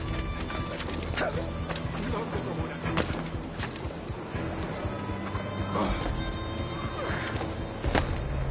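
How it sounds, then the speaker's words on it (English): In Assassin's Creed Black Flag, a horse neighs and its hooves clatter amid game sounds of crashes and hits, with a voice talking over the busy, continuous mix. "El caballo."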